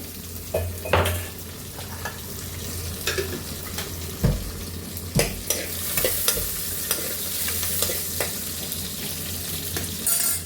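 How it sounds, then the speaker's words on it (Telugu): Garlic and cumin seeds hit a hot pan for tomato rasam, giving a steady close sizzle broken by scattered clinks and scrapes of a stirring spoon against the pan, with no talking. "ఎల్లిగడ్డ జీలకర్ర మర్చిపోయాను ఇప్పుడు వేస్తున్నాను బాగుంటుంది ఇది వేస్తే"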